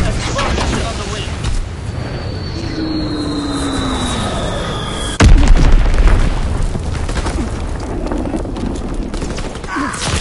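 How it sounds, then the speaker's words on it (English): A Blitz-X bomb explodes in a World War II video game, a sudden loud boom in the middle that cuts over a steady engine drone and battle noise, with a faint descending whistle before it. "Blitz-X bomb is on the way."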